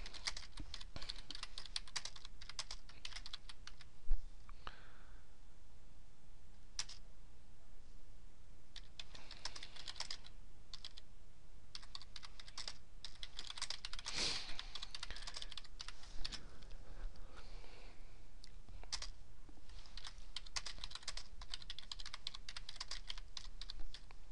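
Typing on a computer keyboard while writing a short business letter in Word, with steady bursts of soft, close key clicks and brief pauses over a faint background hiss, no voices.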